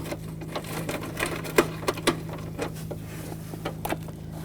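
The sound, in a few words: 8mm socket ratchet removing BMW X5 headlight screws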